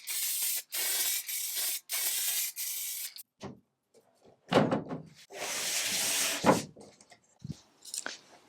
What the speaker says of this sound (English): I think I'm gonna spray like a matte clear coat on top just to protect it.